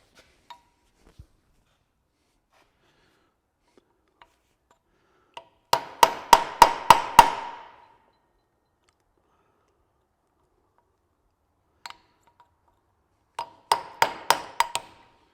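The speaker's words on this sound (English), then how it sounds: "Then you just grab a hammer and a punch and kind of work it out" Sharp metallic hammer blows on a punch, driving out a cut suspension bushing on an 80-series Toyota Land Cruiser: a quick run of about six ringing strikes, a lone tap, then another rapid burst of five, close and clear with quiet gaps between.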